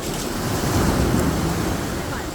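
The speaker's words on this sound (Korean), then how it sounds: "점점 이거 파도 앞으로 오는데" Ocean waves roll ashore at Geoje Island, a loud continuous rushing surf close by, with wind buffeting the microphone throughout.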